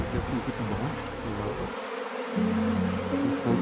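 A swarm of honey bees that escaped is being knocked into a hive, filling the air with a dense, continuous buzzing that is close and steady.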